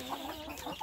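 Kampung breeding hens waiting to be fed, clucking softly in short uneven calls, faint and close, with no talk.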